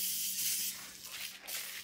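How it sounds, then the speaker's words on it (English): Disinfectant spray hissing from a can onto groceries, several close bursts of broadband hiss with brief pauses between them, and a faint steady hum underneath. "We just spray. Spray the food."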